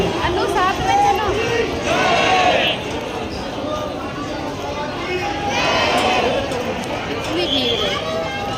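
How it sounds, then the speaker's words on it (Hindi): A dense crowd at the Baba Shyam temple court creates a loud, continuous murmur of chatter and shuffling footsteps, with nearby voices rising and falling throughout. "बाबा के दरबार में भीड़ है।"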